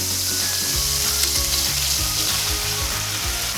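Broccoli florets dropped into a hot pan for a chicken and broccoli stir fry give a loud, steady sizzle, with soft stirring scrapes underneath and no talking.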